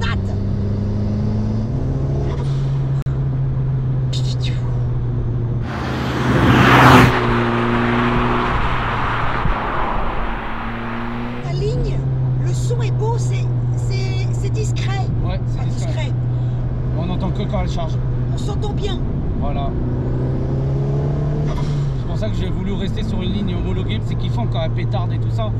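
The turbocharged C20LET engine of an Opel Corsa B GSi runs steadily near and loud, a low engine hum with a short louder burst of rushing noise partway through, while people talk over it.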